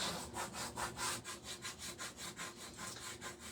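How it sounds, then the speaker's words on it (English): A paste scraper rasps paint off a Hobby Lobby craft pumpkin in quick, steady back-and-forth strokes. The scraping is close and rhythmic, about four strokes a second, with no talking. "Let's see what happens when we just use the paste scraper."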